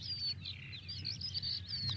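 Small birds chirp and tweet in quick, overlapping bursts from a sound effect library, bright and fairly close, over a soft low background hum.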